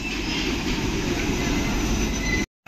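Steady rumbling of a moving train from inside the carriage, a dense low roar with faint hiss and whine above, continuous and close until it cuts off abruptly near the end.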